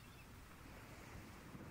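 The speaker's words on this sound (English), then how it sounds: "I could sit here all day just listening to the fleeting waves. The sound of them hitting the shore." Ocean waves wash steadily against a shore in a soft, continuous surf with a faint breezy hiss and no voices.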